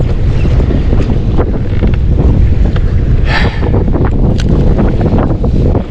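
Strong, constant wind buffets the microphone on the open ocean off the Oregon coast while kayak fishing, with water sloshing against the hull underneath in a loud, unbroken roar.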